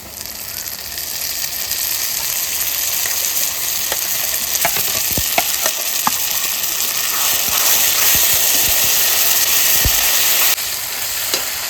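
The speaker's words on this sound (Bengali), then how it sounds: "পেঁয়াজটা আমি সুন্দর বাদামি কালার করে ভেজে নিচ্ছি।" Onions fry loudly in oil with salt and spices, a continuous close sizzle broken by scattered scrapes and clicks of a spoon stirring the pan.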